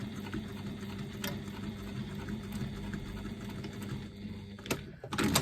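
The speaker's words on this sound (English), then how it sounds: "Take it over to your machine, and again 1/4 inch seam allowance along the bottom edge to secure it in place." A sewing machine runs a quarter-inch seam along the bottom edge of fabric card slots, a steady close mechanical whir with a low rhythmic hum that briefly pauses near the end before a few handling clicks.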